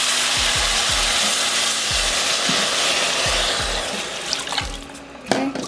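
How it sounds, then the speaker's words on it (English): Water poured into a pot of white rice for cooking, a steady broadband rush of filling water running for several seconds with low knocks underneath, ending with a few brief clatters. "now we're just going to add our water"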